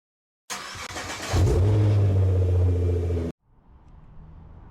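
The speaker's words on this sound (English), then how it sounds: "Engine start." A car engine cranks briefly, catches and settles into a loud, steady idle rumble close by, then cuts off abruptly, leaving only faint background noise.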